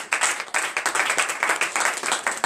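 A church congregation at a morning prayer service clapping and applauding in worship, a dense, loud, rhythmic wave of many hands beating together steadily, close and without talk.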